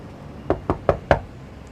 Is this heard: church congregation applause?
no